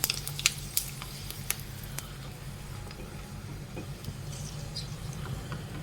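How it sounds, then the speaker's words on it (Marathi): Sabudana potato papad frying in hot oil gives a soft, steady sizzle close by, with a few sharp crackles and pops near the start and no talking. "तेल चांगलं तापून घ्यायचं मग पापड टाकायचं"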